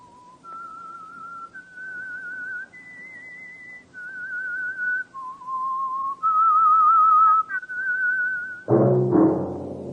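Someone whistles a clear, melodic tune of sustained notes rising and falling, the theme of the radio program The Whistler, ending with a brief burst of accompanying sound.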